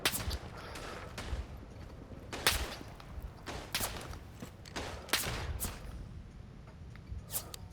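Gunfire in the World War I shooter Verdun, sharp rifle cracks and distant shots going off irregularly every second or so across the battlefield, some near and loud, others faint, with no one talking.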